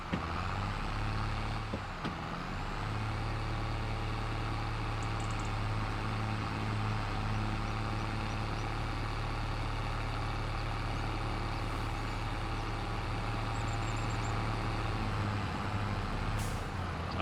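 A tractor engine in the Farming Simulator 25 game runs steadily at idle for the whole stretch, a continuous low rumble with a faint hiss of air brakes near the start and no talk.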